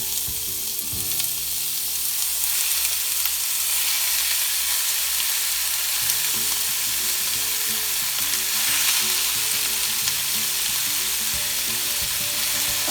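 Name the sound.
meat sizzling in oil in a hot pan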